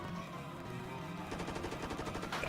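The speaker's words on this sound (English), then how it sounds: "Gunshots." Gunfire in the video game Trauma Center: Under the Knife 2, a rapid burst of repeated shots building up under a steady game background, moderately loud.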